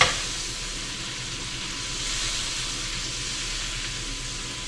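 Butter melting in a hot pan for cooking steak, giving a steady, dense sizzle that holds evenly throughout with no voices.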